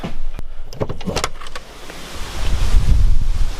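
Strong storm wind buffets the microphone outdoors in Estonia, with a few brief knocks and clicks early on, then a loud, low rushing roar that builds and swells toward the end.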